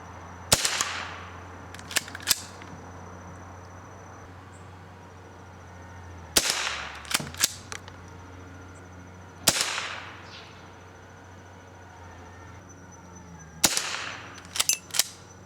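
Sharp rifle shots from a Remington Model 12 fired at a 25-yard target with open sights, four loud cracks spaced several seconds apart, each followed by brief clicks and clatter of the action being worked.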